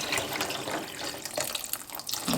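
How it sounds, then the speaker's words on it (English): Water pours steadily from a tap over fresh green beans in a pot, a continuous splashing gush close by with no talk. "I'm going to cover them with water."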